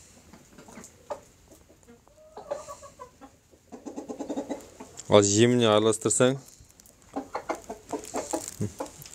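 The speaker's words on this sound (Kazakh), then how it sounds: "Не жеп жатқан тауықтар осылар." Hens and a rooster cluck and squawk while feeding on a farm, several birds close by with a loud burst of squawking midway, a person talking over them at times.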